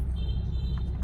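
A 2014 Ford Ranger pickup engine idles smoothly, a low steady rumble with an even hum, close and constant for a brief moment, no talking.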